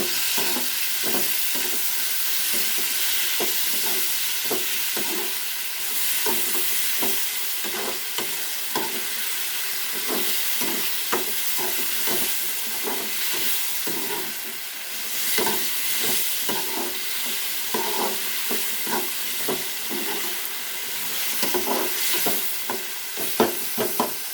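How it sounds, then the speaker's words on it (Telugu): Ingredients for a mango egg curry fry in a pan under a continuous loud sizzle, while a spatula stirs and scrapes against the metal in frequent, irregular strokes, close up and with no voices. "ఇది కూడా బాగా ఫ్రై చేయాలి."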